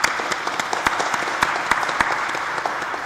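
A church congregation claps for an organist at a Sunday service, a few seconds of moderately dense applause with some individual sharp claps standing out near the listener.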